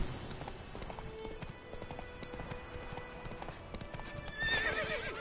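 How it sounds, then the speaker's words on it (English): Hooves clip-clop steadily at a gallop, then a horse whinnies loudly near the end, with a faint tonal game soundscape underneath, in The Witcher 3. "What are you doing, horse? Stop being stupid."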